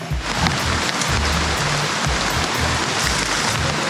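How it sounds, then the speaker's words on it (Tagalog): Steady, dense rain pours down on a muddy hillside trail, a loud continuous wash of drops on surfaces with no pauses and no talking. "kasi ano, umuulan, madulas yung lupa."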